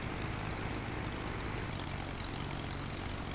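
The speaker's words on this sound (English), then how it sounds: "There's a plane pretty close to me." A small airplane flies close by, its steady engine drone running continuously and fairly loud with no break and no talk over it.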